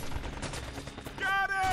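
Rapid gunfire bursts crackle in the shooter game Binary Domain, dense and close, mixed with game effects and a voice shouting over them.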